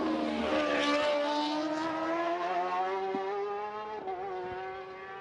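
Racing motorcycles screaming around the Macau Grand Prix street circuit, a loud high-revving engine note holding steady then dipping as a bike brakes and shifts down, with the whine carrying on throughout.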